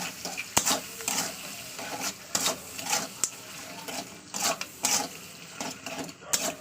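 Spoon stirring salt and turmeric into oil in a pan, a series of soft scraping clicks and taps at an uneven rhythm, close and moderately loud over a faint background hiss.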